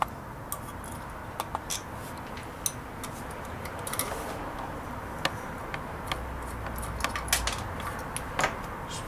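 Screws are removed from a VW Bug speedometer gauge, giving small scattered metallic clicks and ticks and light jangling, close up over a steady background hum.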